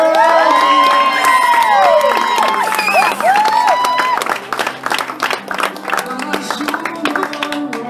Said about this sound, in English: Please give a warm round of applause for the very hilarious Susan Gilbert!